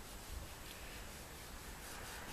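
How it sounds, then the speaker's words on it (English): A clean, dry rag wiped steadily over polished chrome after hours of rust removal, a close, continuous soft rubbing hiss without pauses and with no talking. "I'm just going to take this clean, dry rag and wipe it down"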